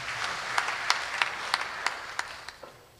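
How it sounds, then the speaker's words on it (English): A church congregation claps in a steady, rhythmic pattern, about three claps per second, moderately loud and slightly reverberant, with sparse background clapping and no talking. "Let us clap for them once more"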